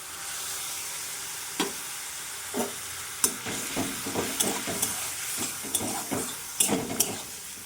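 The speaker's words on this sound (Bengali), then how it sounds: "বন্ধুরা এবার সেদ্ধ লাউটা দিয়ে দিলাম।" Boiled bottle gourd frying in a pan for a koi fish dish, a soft continuous sizzle broken by a series of distinct stirring scrapes and knocks of a spatula on the pan, close and moderate in loudness, no talk.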